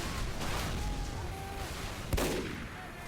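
Gunfire in Team Fortress 2 during a competitive match, a dense, muffled rumble of shots with one sharper burst, all heard under a caster's steady commentary.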